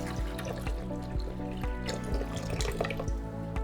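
Water poured into the back reservoir of a home coffee brewer, a continuous close trickle and splash with rhythmic gurgling pulses.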